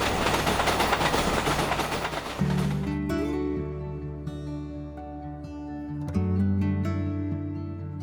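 A train passes close by with a steady broadband rumble and rolling wheel noise that drops to a lower, tonal hum partway through, staying loud throughout with no talk.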